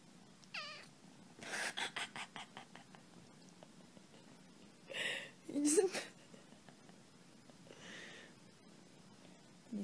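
Pet cats indoors, a few soft meows and short chirps spread across the stretch with quiet gaps, faint and fairly close, with some whispery rustling between them.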